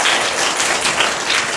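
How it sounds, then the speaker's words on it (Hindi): Students in a classroom clap their hands in a quick burst of applause after a correct answer, a loud, steady patter of many hands that fills the whole moment without speech. "ताली बजाओ"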